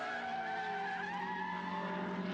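A Pirelli Trophy race car at the Hungaroring, 2015 round 3, loses control under braking, giving a sustained, wavering tire squeal and skid over engine noise, heard at moderate distance with no talking.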